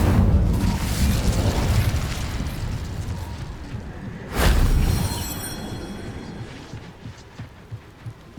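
A fire spell is cast in the Hogwarts Legacy video game, a single loud whooshing burst near the middle that flares up and slowly dies away over steady rumbling game ambience, followed by faint scattered clicks.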